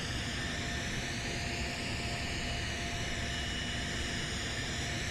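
Embraer E190 jet engines in Microsoft Flight Simulator 2020, a steady, dense roar with a high whine that slowly rises and falls, continuous and unbroken for the whole stretch.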